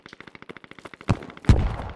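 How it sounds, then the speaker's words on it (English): Machine gun fire in the shooter game Squad: a rapid, evenly spaced burst of about twenty shots, then two louder, heavier bangs close by. "someone's unloading an MG"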